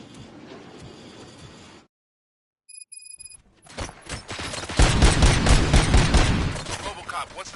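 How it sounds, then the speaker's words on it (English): Robot gunfire in a RoboCop video game erupts as dense, loud bursts of rapid shots after a brief silence and some tonal beeps, building into a sustained barrage. "Gunshots?"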